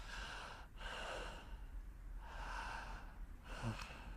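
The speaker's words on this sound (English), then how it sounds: "Because breathing through the throat or the nose, you can very audibly hear that" Audible breaths drawn through the throat and nose come in three slow cycles, close and soft, with a sharper sniffing intake near the end.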